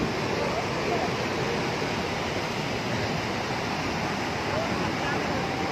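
Heavy floodwater roars out of the four opened crest gates of the Hemavathi dam, a dense, unbroken, loud rushing that holds steady throughout with no voices audible.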